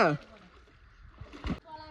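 Someone jumps into the clear water of a rock quarry pool, making a single sharp, close splash in the middle of the clip, with young voices speaking before and after it.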